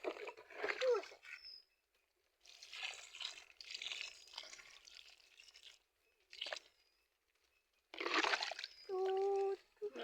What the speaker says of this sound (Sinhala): දැන් මේකටත් අපි වතුර ටිකක් දාමු